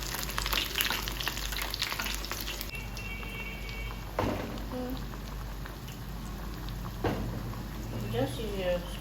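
Plantain frying in oil in a pan, a soft crackling sizzle with scraping spatula strokes and bursts of spitting, fairly quiet, with a constant high-pitched tone over it.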